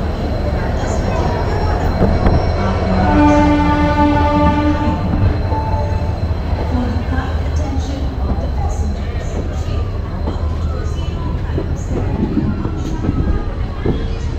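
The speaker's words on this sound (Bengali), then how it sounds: "আমাদের ট্রেন ছেড়ে দিয়েছে পারফেক্ট টাইমে" A passenger train from Kolkata to Puri running just after departure, a loud steady rumble and rattle of wheels with a sustained tonal whine or horn-like note midway, heard from inside with a voice partly over it.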